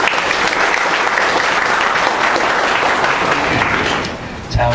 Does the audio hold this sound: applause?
yes